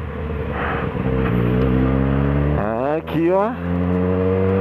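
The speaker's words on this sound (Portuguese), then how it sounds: "Yamaha. Bonita motinha." Engine noise from a ride dominates throughout, with a sweeping pitch change near the middle as another vehicle, a Yamaha motorcycle, goes by on a cold morning street, and someone speaks briefly over it.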